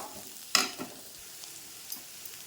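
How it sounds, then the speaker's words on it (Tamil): Bitter gourd sautéing in a pan: a quiet continuous sizzle with one sharp scrape of a spoon early on and a few softer stirring touches afterward, no voices. "பாவக்காய் வதங்கிட்டு இருக்குது"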